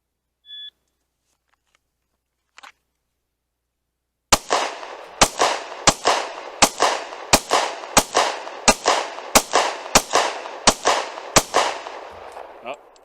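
A shot timer beeps twice, then a .22 fires about eleven sharp, evenly spaced gunshots in quick succession during a timed shooting drill, loud and close.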